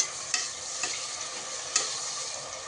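Onions and small tomatoes sautéing in a pan for a curry porridge, a steady close sizzle with a few soft stirring scrapes and clicks scattered through.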